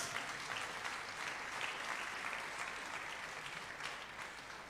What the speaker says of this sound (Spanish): Le damos un aplauso al Rey de Reyes.